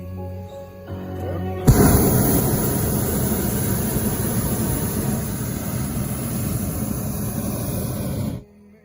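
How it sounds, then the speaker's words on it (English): A sustained loud roar of blasts and crackling bursts, dense and continuous for several seconds before cutting off abruptly. "Fireworks, you're right, Jake."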